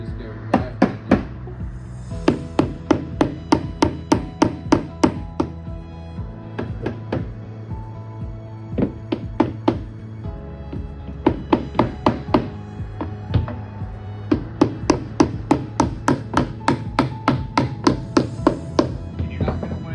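Repeated sharp taps drive a bolt into a wooden Adirondack chair, coming in quick rhythmic bursts of several strikes with short pauses between, close and fairly loud.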